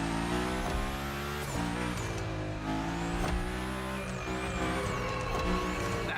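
A car drifting and sliding through a gymkhana course in the racing game The Crew Motorfest, a steady loud engine drone with whining tire squeal rising and falling over it, with music playing throughout.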